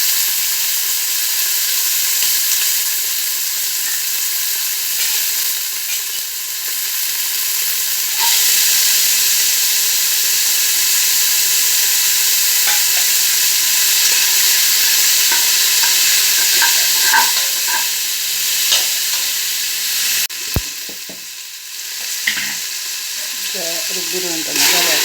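Peas and mixed vegetables fry in a pan for a village-style vegetable palya, giving a steady loud sizzle and hiss throughout, with occasional scraping and clinking of stirring that picks up near the end.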